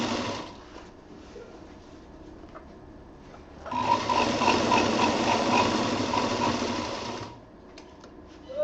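A sewing machine stitches pieces of a homemade picnic bag, running in one steady, loud burst of several seconds, with quieter machine hum and handling before and after.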